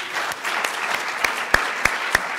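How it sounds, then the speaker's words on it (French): Audience at a conference applauding, a steady wash of clapping across the whole short stretch with a few sharper individual claps standing out near the end. "Je pense que ça mérite une main d'applaudissement."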